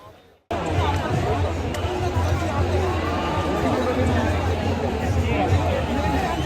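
Dense crowd noise from protesters gathered at Jantar Mantar in Delhi, a steady loud babble of many voices with no pauses after a brief quiet opening.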